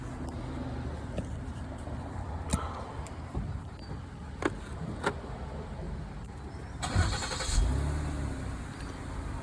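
Ford Flex engine cranking and catching to a low idle near the end, preceded by faint clicks and interior mechanical sounds, heard close from inside the vehicle, fairly quiet overall.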